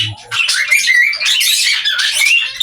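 A young cockatiel, four months old, lets out harsh, shrill squawks in a close, loud burst lasting a couple of seconds with a short break midway.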